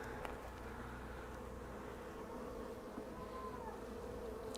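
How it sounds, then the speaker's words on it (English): Dense, steady buzzing of many honey bees crowded on a natural brood frame in an early-spring hive, a continuous close drone with no talk. "So there's some good population of bees here."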